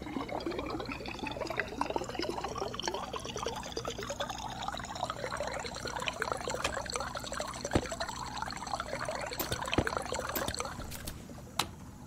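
Water draining from an emptied water tank in the space-survival game Stationeers, a steady pouring trickle that runs continuously for the whole stretch with a faint tonal hum above it.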